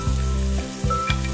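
Zucchini stir-fried in perilla oil over medium-low heat, a steady close sizzle with a few soft stirring scrapes, no talking.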